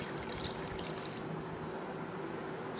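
Herbal soaking water strained through a filter into a glass, a continuous soft pouring and trickling splash heard close up, with no talking.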